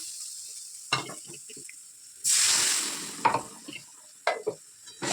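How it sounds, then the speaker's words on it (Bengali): Water poured into a hot kitchen pan bursts into a loud hissing sizzle that fades, preceded and followed by scattered scraping stirs and light clatters of the spoon against the pan. "এবার জল ঢেলে দেবো লেগে যাচ্ছে"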